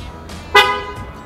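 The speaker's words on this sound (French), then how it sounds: "Pour être sûr que c'est la mienne, on va essayer le klaxon." A Tesla Model S horn honks once, a short loud toot triggered remotely, heard from nearby against a quiet background.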